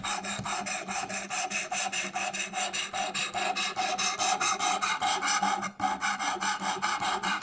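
A knife blade scrapes back and forth across a 220 grit sharpening stone in steady, rhythmic rasping strokes, close and continuous with one brief pause.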